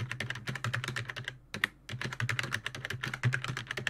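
Rapid, irregular keystrokes on a computer keyboard while setting up Windows NT 4 in a virtual machine, close and clear, with a brief pause midway before the clattering typing resumes.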